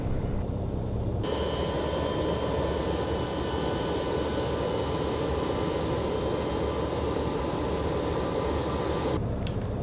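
Engine number four of a BAe 146 jet airliner spools up during start in the X-Plane 11 flight simulator: a loud, steady roar with a high whine that cuts in after a second and holds for about eight seconds.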